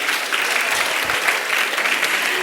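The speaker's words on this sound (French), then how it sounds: "Oh, j'aime trop les applaudissements." A room full of people applauds at a talk, steady dense clapping that carries on throughout without pause.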